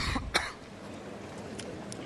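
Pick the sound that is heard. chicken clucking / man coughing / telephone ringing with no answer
man coughing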